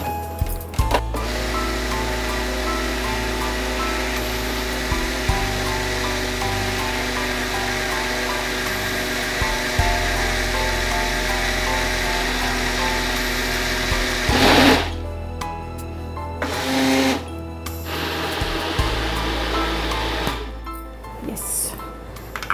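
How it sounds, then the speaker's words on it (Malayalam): A blender whirs steadily for about fourteen seconds as it purées fresh cream with cream cheese, then the motor stops and restarts in short bursts with faint clinks in between; close and loud, no talking. "ഇനി നന്നായിട്ടൊന്ന് ബ്ലെൻഡ് ചെയ്തെടുക്കാം."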